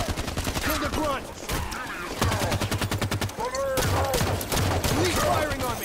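Rapid enemy gunfire in the video game Halo 5: Guardians during a Warzone Firefight match, loud bursts of automatic shots and game effects layered together almost without pause.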